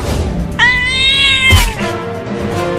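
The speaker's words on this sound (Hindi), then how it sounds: "वो बिल्ली मेरा बड़ा आइसक्रीम लेकर भागने लगी" A cartoon cat gives a single loud, drawn-out meow that rises and holds before breaking off, followed by a short thump and a fainter trailing cry.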